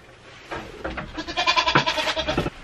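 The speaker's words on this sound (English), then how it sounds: "I'm gonna go give the goats their hay." Several goats bleat in a quick run of overlapping calls at close range, waiting to be given hay.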